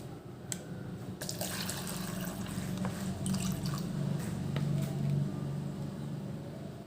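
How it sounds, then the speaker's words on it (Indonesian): Water poured into a container for an Archimedes' principle experiment, a steady splashing, filling sound with scattered drips, moderately loud and continuous throughout with no talking. "kita masukkan air ke dalam wadah, setengah dari wadah saja"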